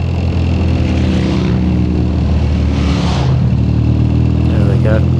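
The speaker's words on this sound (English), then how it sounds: "just roll the throttle on this bike, you know, away I go" A Triumph motorcycle engine runs loud and close with a steady low rumble. It swells twice as the throttle is rolled on, and faint background voices are present.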